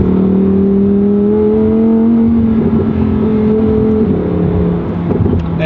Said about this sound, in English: Downshifts are pretty much instantaneous with the dual clutch, 7-speed.